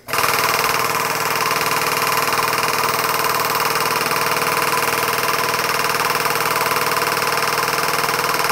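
A 10-ton hydraulic press pressing a part onto a crank for tungsten heavy metal work gives a steady, loud mechanical hum and drone that runs unbroken from start to finish.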